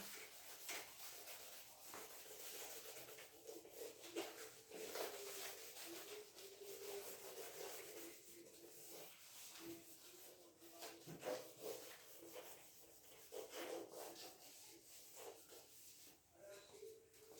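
A duster rubs out calculations on a board during a physics lesson, making a continuous soft scraping and wiping sound at moderate volume with no speech over it.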